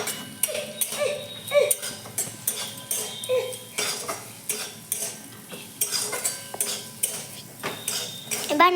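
Spatula scraping and clinking against a pan while fried peanuts are stirred with cumin, coriander, black pepper and dried red chillies in a village kitchen; repeated rhythmic metallic scrapes, close and fairly loud, with soft background music.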